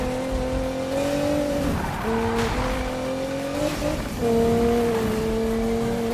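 A Nissan GT-R engine howls in the Need for Speed (2016) racing game as the car races and drifts, with the pitch dipping and climbing through gear changes and a brief lull before it surges again. The engine is loud and close, with no talk.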